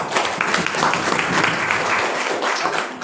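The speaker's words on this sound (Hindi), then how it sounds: "एक बार जोरदार ताली होनी चाहिए।" Applause from an audience at a Hindi-language health training seminar, a steady dense wash of clapping that holds at an even level for the whole stretch, with no talk over it.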